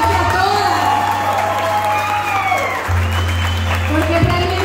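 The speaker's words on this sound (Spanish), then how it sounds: "Démosles un aplauso nuevamente a todas." A crowd applauds and cheers the finalists of a contest, steady and fairly loud, with shouting voices and a low electrical hum underneath.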